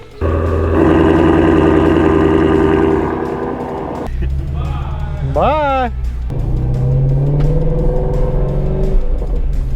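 A Porsche 911 Turbo engine starting up and revving, a loud deep idle followed by sharp rising revs and a rumbling settle, close by, with people talking briefly.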